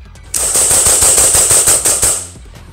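AW race gun airsoft pistol with modified internals fired rapidly, a loud burst of about a dozen sharp snapping shots in quick succession lasting around two seconds, with no talk.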